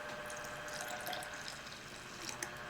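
Tap water poured into a plastic bottle, a steady close watery hiss and trickle running throughout with small splashy bursts near the end.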